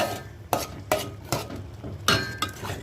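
Spoon scraping and stirring chili powder, salt and turmeric into a bottle gourd curry in a pot, with several distinct knocks against the pan at irregular intervals and a soft background hiss.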